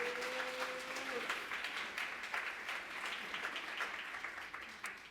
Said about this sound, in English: a big round of applause to our ASL interpreter